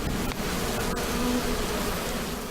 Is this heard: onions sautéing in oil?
no